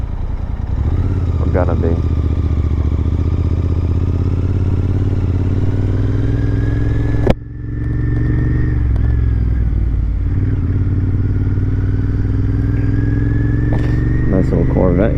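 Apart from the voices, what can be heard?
cafe racer motorcycle riding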